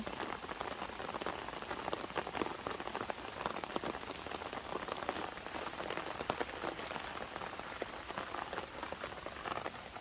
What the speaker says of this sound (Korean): 비 오는 날에 주말 농장입니다.